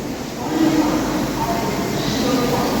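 A Shatabdi Express train idles at Amritsar railway station with a steady low rumble and mechanical hum, continuous and fairly close, amid background station noise.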